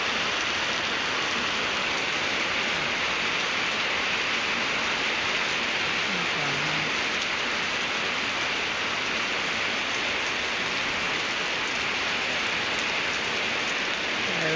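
Steady early-morning rain pouring down, a dense, even hiss of countless drops on surfaces that stays constant and close throughout, with no voices.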